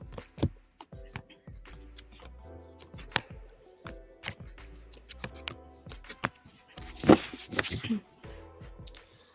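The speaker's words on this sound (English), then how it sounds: "Let me get shuffling here." Tarot cards are shuffled by hand at close range in a series of sharp riffling bursts and taps, irregular in rhythm, with a louder flurry near the end.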